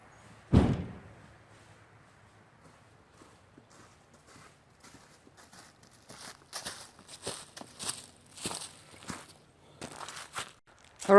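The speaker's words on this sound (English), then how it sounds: "I'm going to go close all the doors." Doors of a Mercedes Sprinter van being shut: one solid, close slam, a quiet pause, then a run of knocks, clunks and shuffling footsteps.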